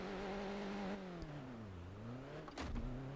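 A Ford Ranger truck engine in the Burnout 3 racing game drones and revs, its pitch sagging and rising, with a short sharp crash-like burst near the end, fairly quiet.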